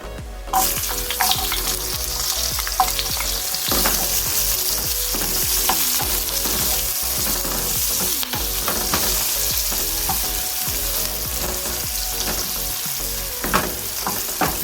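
Chopped onion frying in oil in a pan for chicken pastil, a loud steady crackling sizzle throughout with occasional sharper pops and stirring scrapes.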